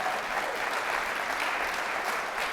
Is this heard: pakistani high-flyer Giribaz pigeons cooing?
no